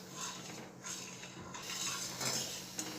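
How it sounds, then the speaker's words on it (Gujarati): A spoon clinks and scrapes against a metal pot as cumin powder and spices are stirred into Gujarati kadhi. The scraping repeats steadily for a few seconds at close range, with faint clatter and no voices. "બધું સરસ મિક્સ કરી લઈશું"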